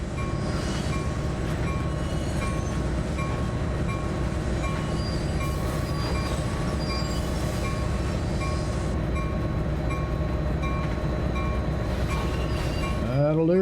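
A locomotive in a train simulator game working a Peninsula Corridor rescue scenario near Santa Clara, its engine a steady, loud, continuous drone with a faint sweeping squeal near the end; no talking.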